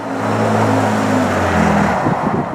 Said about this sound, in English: I floor the accelerator, we're down to 5th.